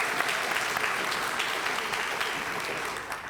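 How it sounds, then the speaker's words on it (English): An audience claps at the Cupertino State of the City event, a dense, steady round of applause that holds for several seconds before tapering off slightly at the end. "That was the Cupertino mayor that started out that round of applause"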